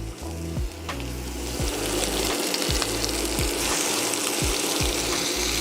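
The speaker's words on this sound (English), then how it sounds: "we're gonna start introducing our short ribs. So we want to brown them, so I'll just put them here." Beef short ribs browning in a pan on an induction cooktop give a steady broadband sizzle, with low pulsing bumps and clicks running continuously underneath, fairly close and moderately loud, with no talking.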